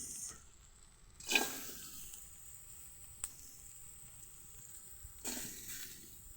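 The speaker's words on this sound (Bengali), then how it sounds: "আমি দিয়ে দিব পেঁয়াজ, মরিচ," Onion and green chili fry in a hot pan, giving a quiet background sizzle broken by a few louder bursts as ingredients hit the oil or get stirred, with no voices.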